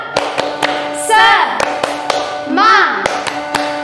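Children at an online Indonesian Sunday school do a rhythmic spirit clap, crisp hand claps in a steady patterned beat, with two sung or shouted vocal phrases breaking in between the claps.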